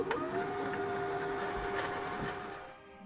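A sewing machine motor winding a bobbin, a steady close whirring hum at an even speed for a few seconds, quiet and alone, easing off at the end.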